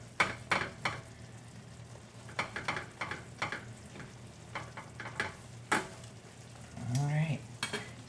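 Skillet chicken with peaches and rosemary cooking in a pan, a soft sizzle broken by repeated clinks and scrapes of a utensil against the skillet in short irregular bursts, no talking.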